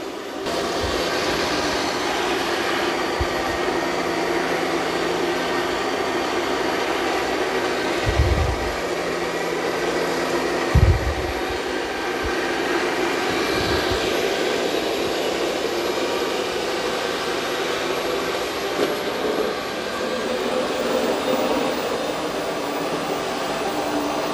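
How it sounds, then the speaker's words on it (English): ECOVACS DEEBOT T20 Omni robot vacuum and mop washing its mop pad: a loud, steady whirring motor drone that runs throughout, with a few dull thumps, and no voices. "it's going to go back and wash the mop pad and come back and mop it a second time"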